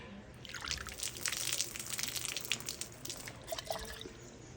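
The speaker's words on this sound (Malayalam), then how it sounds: "ഇപ്പോൾ നമ്മൾ ഒരു പിടി വിത്തെടുത്ത് ഇതിൽ വെക്കുകയാണ്" A handful of seeds dropped into water for a germination test, producing a spray of small splashes and drips that patter unevenly for several seconds close by.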